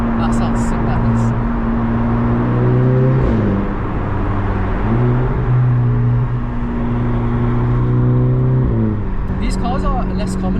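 From inside a Seat Ibiza Cupra Bocanegra, a steady engine and exhaust drone rises and drops with each gear change under acceleration, continuous and fairly loud, while people talk.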